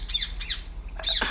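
A bird in the video game Republique gives a few quick, shrill squawks in a short burst over a low steady hum.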